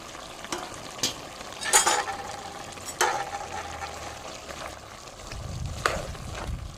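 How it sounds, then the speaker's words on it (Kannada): Chopped onion, garlic, ginger and green chili tossed into a hot pan, with steady frying sizzle and occasional scrapes and clinks of a spoon stirring, close up. "ನಾನು ಇವಾಗ ಇದಕ್ಕೆ ಈರುಳ್ಳಿ ಬೆಳ್ಳುಳ್ಳಿ ಶುಂಠಿ ಕಾಯಿ ಮೆಣಸು ಕಟ್ ಮಾಡಿ ಕಟ್ ಮಾಡಿಟ್ಟದನ್ನು ಹಾಕ್ತೇನೆ"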